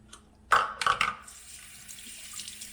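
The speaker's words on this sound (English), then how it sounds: "Just rinse some water over the rice in a bowl or something, but just kind of rinse it over" Rice is rinsed under running water in a strainer, with a sudden gush of tap water splashing over the grains that settles into a steadier, softer trickle. The sound is close and heard alone.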